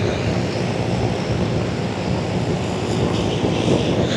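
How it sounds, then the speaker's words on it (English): A Vashon Ranger light airplane taxis at the Sun 'n Fun airshow, its engine giving a steady, fairly loud drone with a propeller hum and some wind rumble on the microphone throughout. "designer Ken Kruger was the one that designed the Vashon Ranger that's taxiing down there"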